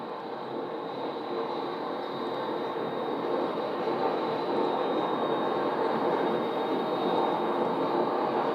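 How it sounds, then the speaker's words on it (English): A Beech MC-12 Huron twin-turboprop descends on approach to land, a broad steady roar heard from a distance that slowly swells in loudness. "This is an MC-12, and it looks like it is approaching"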